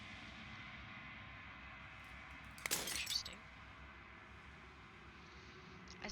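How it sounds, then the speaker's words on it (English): Glass fragment shattering in the game Slay the Princess: a single bright crash bursting out around the middle and ringing off over a second, set against a steady low ambient drone, with no talk. "final fragment of glass shatters"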